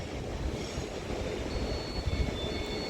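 A passenger train pulls away from Liverpool Lime Street station towards the tunnels, a steady low rumble of wheels and traction noise with faint high tones above, holding at an even level throughout with no voices.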